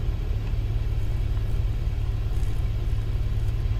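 Car engine in the horror video game Fears to Fathom, Norwood Hitchhike episode, a steady low rumbling drone with a pulsing idle-like throb, close and continuous throughout with no talk.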